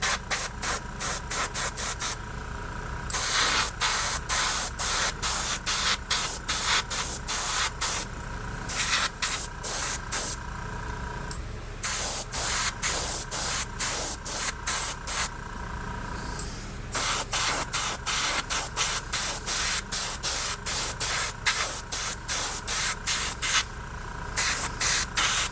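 A paint spray gun fires in repeated hissing bursts, close and loud, with short pauses between passes over about twenty-five seconds.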